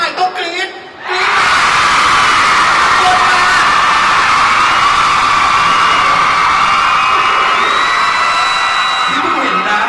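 A large concert crowd at a solo show erupts into loud, sustained high-pitched screaming and cheering that starts abruptly after a quiet moment and holds steady for the rest of the clip.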